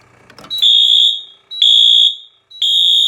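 Building fire alarm set off by a manual pull station: three loud, piercing electronic horn blasts in a row, each about half a second to a second long with short gaps, after a brief click of handling.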